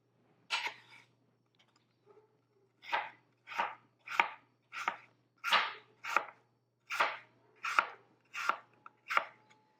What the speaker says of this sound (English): we're just going to make thin slices, about 1/4 of an inch, and put them in a small bowl